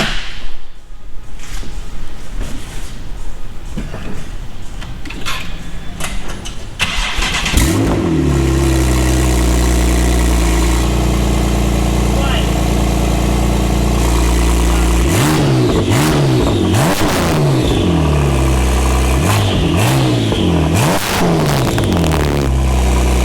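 Porsche 911 Turbo 991.2 with a freshly swapped Capristo exhaust, loud and close: an engine start burst, then a steady deep idle broken by several sharp rising revs later on, with no talking.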